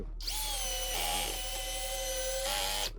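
A Pro-Craft cordless screwdriver drives an 8x100 mm turbo screw into wood, giving a close, continuous high motor whine for about three seconds whose pitch dips under load.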